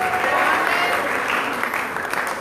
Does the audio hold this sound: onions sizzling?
no